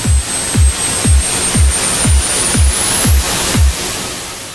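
A synth riser built in Logic Pro X with a noise oscillator: a thin, high whistling tone climbs steadily through a wash of noise, while heavy low thumps pulse about twice a second.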